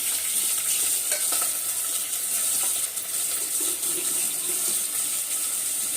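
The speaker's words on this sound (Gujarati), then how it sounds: "મમ્મી અહીંયા આગળ ડુંગળી બટાકાનું શાક વઘારે છે" Onion and garlic frying in hot oil for potato curry, a steady loud sizzle that stays constant throughout with slight stirring clatter and no speech.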